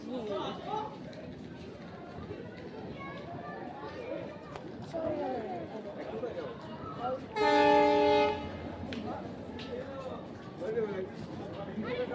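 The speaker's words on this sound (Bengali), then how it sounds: "আমরা এই ট্রেনটা করে এসেছি।" A passenger train at a railway station in Puri gives one loud, sustained horn blast lasting about a second midway, set against steady platform crowd chatter and background bustle.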